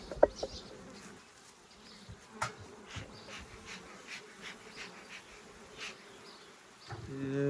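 Honeybees packed densely in a hive super buzz in a soft, continuous drone, with scattered clicks and knocks of hive handling and no speech.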